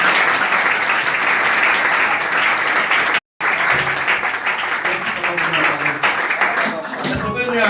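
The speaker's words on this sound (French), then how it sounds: "On va acclamer pour le Seigneur." A church congregation applauds and cheers for the Lord with loud, continuous clapping and voices mixed in. A brief cut to silence falls just after three seconds, then the applause resumes at full strength.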